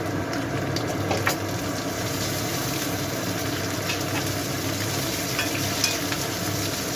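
Green chilli and chopped tomato hitting frying prawns in a pan for prawn kochu saag, a steady broad sizzle with light stirring and scraping, close and continuous with no talk.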